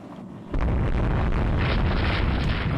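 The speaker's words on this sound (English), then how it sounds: "Marco Polo opens fire on the Kaiser" Naval gunfire from warships in the Rule the Waves 3 video game bursts in after a brief quiet lead-in, becoming a loud, sustained rumbling roar of cannon blasts that fills the rest of the moment.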